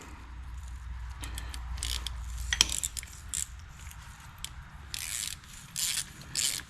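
Ratchet wrench clicking as a bolt is turned on a G900 axle during pinion seal and brake work, several short bursts of metallic clicks with pauses between, close and fairly faint over a low background hum.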